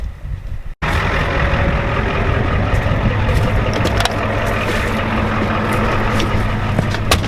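A farm truck's engine idles close by with a steady, loud low rumble that runs on without change after a brief dropout at the start. Nobody speaks.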